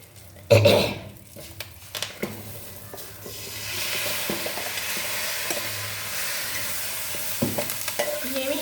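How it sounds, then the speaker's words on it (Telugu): Soaked chickpeas stirred into a hot tempering in a pan, a sharp splash of sizzle at the start settling into a steady frying hiss with intermittent scraping strokes of a spoon. "ఇప్పుడైతే శనగలు తిరగమాత పోసేస్తానండి"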